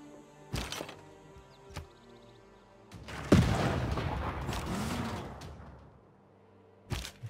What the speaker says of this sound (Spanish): Vamos a probar la ametralladora.